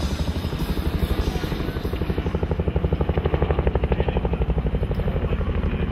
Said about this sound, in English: the recon team is inbound in UH-1 helicopters lift 2-1 and lift 2-2